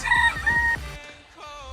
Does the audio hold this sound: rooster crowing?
yes